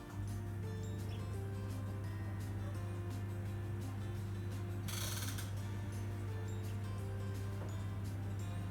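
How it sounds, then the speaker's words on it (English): Oven knob on a kitchen oven being turned to set 200 degrees Celsius, a steady mechanical clicking and ratcheting with a low constant hum beneath and a brief brighter burst midway, no talking. "So, turn on the oven on 200 degrees Celsius"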